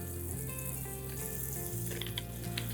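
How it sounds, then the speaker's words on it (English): Partially cooked potato nuggets fry in hot oil in a kadhai over a high flame, making a soft, continuous bubbling sizzle with no voices. "we're going to fry the potato nuggets. Let's drop this very carefully in hot oil,"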